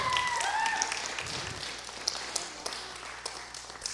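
A live audience at a gaming show breaks into fairly quiet applause, a scattered patter of claps with a few sharper hand strikes, heard at a distance with no talking over it.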